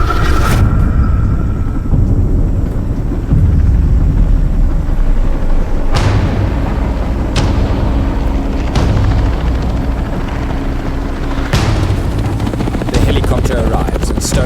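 Loud helicopter rotor and engine noise, a constant heavy thrumming roar up close, with a few sharp thumps breaking through.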